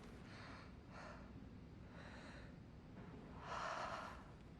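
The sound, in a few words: the Doctor breathing in a Dead by Daylight video game trailer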